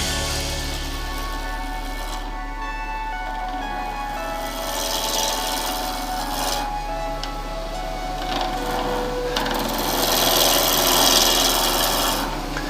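A turning tool cuts wood on a lathe, lifting off small shavings with a steady rasping, scraping sound that swells and fades over the hum of the running machine.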